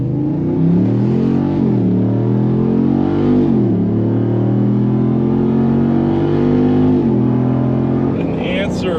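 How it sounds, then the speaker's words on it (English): A one-ton Jeep with a 392 V8 on 40-inch tires accelerates hard, its loud engine note rising through repeated gear shifts in a continuous, close roar. "And the answer is yes, it does accelerate good."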